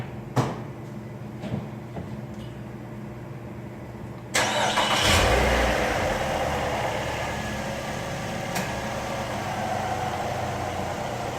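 A 2011 Nissan Maxima with a 2.5L engine cranks and catches about a third of the way in, then settles into a steady, close idle with a broad, even hum. Before it starts, only a few faint clicks and knocks break the quiet.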